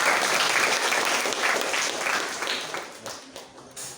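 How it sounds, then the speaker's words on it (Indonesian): Audience applause after a talk at an Indonesian community research and service session, a dense steady clapping that thins and fades toward the end, with a voice faintly underneath. "Oke, mari kita beri tepuk tangan sekali lagi kepada Kak Elvi."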